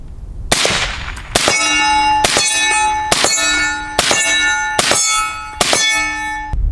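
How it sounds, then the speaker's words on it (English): Seven loud shots from a suppressed .308 SR25 clone rifle, each a sharp crack followed by a bright metallic ringing ching, fired at a steady pace of roughly one per second. "Usually when it's suppressed, you can hear a little bit more of that metal ching sound."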